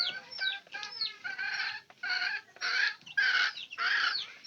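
Chickens cluck and squawk close up while being fed corn, with a run of loud, overlapping calls in uneven bursts and no talking.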